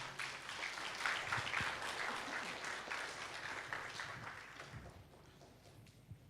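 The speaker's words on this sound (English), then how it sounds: "please give a round of applause to all the" A conference audience gives a sustained round of applause, dense clapping from many hands that stays full for several seconds before thinning and fading toward the end.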